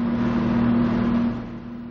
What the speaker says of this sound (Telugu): బస్సు బయలుదేరబోతోంది